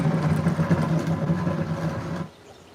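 A four-wheeler called Big Red runs in the background, a steady low engine drone with a faint rumbling rhythm that cuts off abruptly near the end, moderately loud and with no talking.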